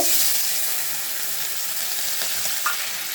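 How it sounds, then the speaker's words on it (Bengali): Potatoes cut into long strips fry in a little hot oil in a heated wok, giving a close, steady, bright sizzle with faint crackles and no talk. "কড়াই গরম করে তাতে সামান্য তেল দিয়ে তাতে এই আলুগুলোকে দিয়ে"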